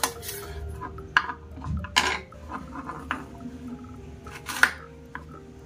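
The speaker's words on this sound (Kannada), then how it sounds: "ಹೀಗೆ ಸಣ್ಣ ಸಣ್ಣದಾಗಿ ಕಟ್ ಮಾಡ್ಕೋಬೇಕು." A knife chopping okra into small pieces on a cutting board, with irregular soft cuts and occasional sharp clinks of the blade against the board, close and fairly quiet.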